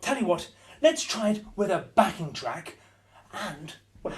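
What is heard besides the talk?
None of the usual background noises is heard.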